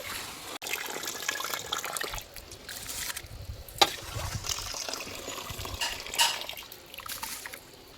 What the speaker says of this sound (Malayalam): നമുക്ക് ഇതിലേക്ക് അരി ഇട്ട് കൊടുക്കാം